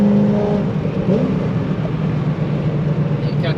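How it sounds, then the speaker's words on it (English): Interior of a moving Corvette on a drift trip, a steady loud engine and road drone with a brief revving rise near the start, continuous throughout. "so I'm now riding with Trav in his Corvette"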